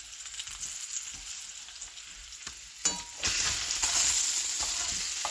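Beef sausages and onions sizzle and crackle steadily in a frying pan, a continuous close hiss with a few sharper pops and a louder surge of frying partway through, with no talking.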